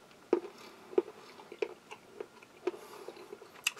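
Crumbly, heavily bloomed 65% dark chocolate from a French army field ration being chewed close up, with several soft crunchy bites spaced roughly half a second apart over a quiet background.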